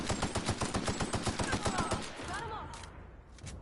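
Rapid automatic gunfire from The Outer Worlds video game rattles in an even, loud burst for about two seconds, then a voice talks over fading sounds.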